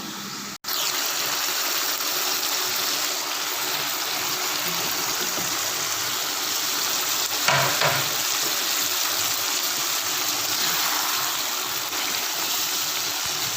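Whole coriander, cumin and black pepper roast in a pan for a karahi, giving a steady close sizzle and hiss with a brief louder crackle partway through, no talk.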